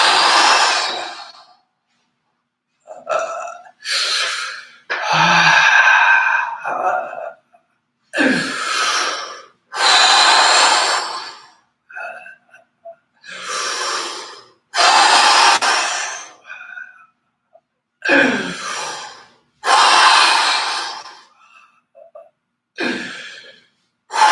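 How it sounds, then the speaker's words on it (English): Forceful, deep exhalations pushed out hard during a lymphatic breathing exercise, a series of loud breathy rushes of air separated by short silences, repeated about a dozen times at a steady rhythm. "so really try to drive the air out as far as you can"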